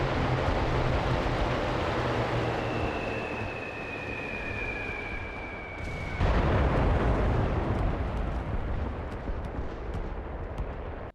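Artillery strike explosions in the World War II shooter Enlisted, heavy broadband blasts and rumble with a whistling incoming shell before a loud impact midway, continuing as dense rolling bombardment.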